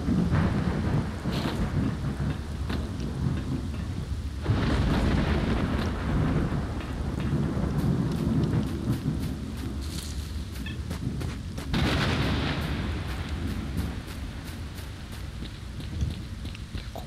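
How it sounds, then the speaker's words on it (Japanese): Thunder during a rainstorm in the S.T.A.L.K.E.R. Lost Alpha video game: a steady wash of rain with repeated deep rolling booms and cracks spread across the clip, loud and close, no voices. "ちょっと雷やんでほしいな"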